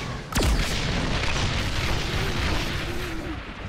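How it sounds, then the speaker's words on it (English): A heavy artillery strike hits in the shooter game The Bureau XCOM Declassified, a loud deep boom with a falling whistle followed by sustained rumbling debris and roar. "Call in the artillery!"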